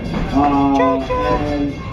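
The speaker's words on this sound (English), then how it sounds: "The train is in motion." An antique train in motion gives a steady rolling rumble with a sustained, wavering whistle-like tone over it. The sound is continuous and moderately loud for the whole stretch.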